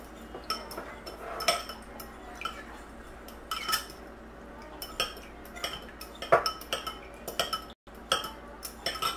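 A spoon stirring aloe vera gel and alcohol together in a bowl, close, quiet clinks and taps of metal against the dish in an irregular rhythm with brief pauses.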